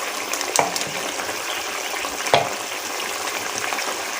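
Mutton frying over high heat sizzles steadily while korma masala is stirred in, with a couple of sharp spoon scrapes against the pot under the continuous fry, close up and with no speech.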